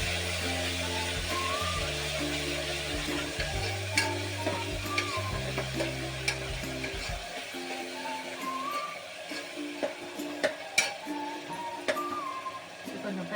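Chopped fenugreek leaves fry in a pan with a soft crackle and intermittent stirring clicks, while background music plays and the sizzle stays low and close.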